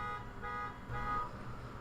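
A car alarm sounds outside, faint and distant, a steady wavering electronic tone that swells slightly and holds without pause through the short stretch.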